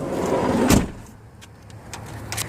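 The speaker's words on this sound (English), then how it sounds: "Got sliding doors on both sides." A 2002 Chevy Venture minivan sliding door rolls along its track and thuds shut, followed by a few quieter clicks and knocks nearby.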